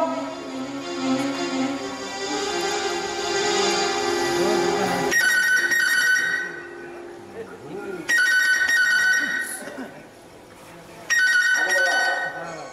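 A telephone rings in repeated bursts during a stage play performance, clear and near, with voices talking under and between the rings.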